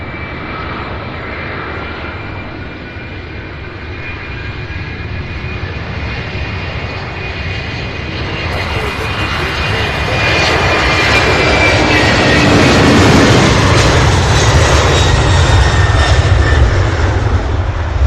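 A jet airliner takes off from SDF airport in Louisville, its engine roar building steadily from a distant rumble to a loud, sustained blast that stays strong to the end, with no talking.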